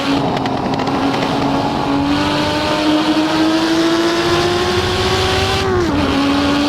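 Lamborghini Miura P400SV, a rear-engine car, driven in the Assetto Corsa racing game: a loud, close engine drone climbs steadily in pitch under acceleration, then dips sharply with a gear shift near the end, no talk.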